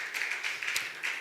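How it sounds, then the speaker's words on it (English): A small audience gives a faint, sparse round of applause for someone speaker at a live-streamed event, a few scattered claps coming in uneven bursts. "Can we give her a round of applause?"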